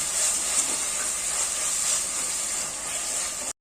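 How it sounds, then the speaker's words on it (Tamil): Ginger garlic paste sautéing lightly in a pan for a home-cooked chickpea biryani, giving a steady, close, even sizzling hiss with no talking, ending abruptly. "இப்போ இந்த இஞ்சி பூண்டு பேஸ்டோட அந்த ரா ஸ்மெல், அதாவது பச்சை ஸ்மெல் போகிற வரைக்கும் கொஞ்சம் லைட்டாக வதக்கிக்கலாம்"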